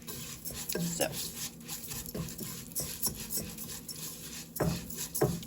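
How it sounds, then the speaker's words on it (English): A spoon scraping and stirring food frying in a pot on a home stove, with irregular clinks and rubbing strokes against the metal, close and fairly quiet. "So we're going to stir because we don't want it to fry."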